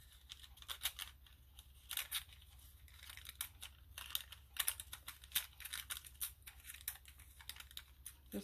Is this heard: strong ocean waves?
no